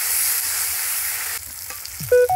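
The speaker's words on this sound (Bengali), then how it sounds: "খুব ভালো করে নেড়ে চেড়ে কষিয়ে নেব।" Cumin, coriander and turmeric powders with salt sizzle steadily in a hot pan, the hiss softening partway through before a close metallic stir and scrape near the end.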